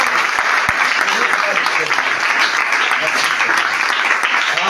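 Loud, dense applause fills a church gathering at a national youth camp, a steady wash of many hands clapping throughout with a faint murmur of voices beneath.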